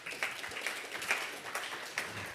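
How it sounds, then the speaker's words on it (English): Small audience at a San Francisco AI newcomer meetup gives a brief, fairly faint round of applause, scattered claps blending into a light patter with no talk over it. "Let's give him a round of applause."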